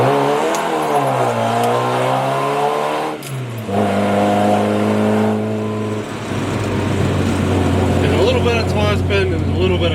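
Supercharged Morris Minor engine revving hard as the throttle is opened and the clutch slips, a loud sustained drone rising and settling in pitch, with someone talking over it near the start.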